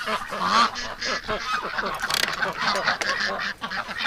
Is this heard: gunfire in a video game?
no